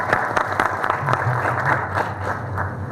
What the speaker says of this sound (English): I think APSEP deserves a big hand of applause.